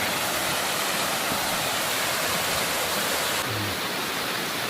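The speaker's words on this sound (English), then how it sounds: "We've made it to the waterfalls. Check out the flow on that." A waterfall on a rocky fell in the Lake District pours down in full, heavy flow, giving a steady, loud broadband rush that fills the clip without a break and with no voices over it.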